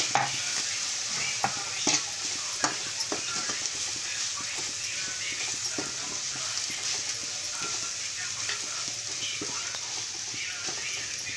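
Ground spice powder frying in oil in a pan for tamarind rasam, with a spatula scraping and clacking against the metal in irregular close strokes over a soft steady sizzle; a voice is faintly present.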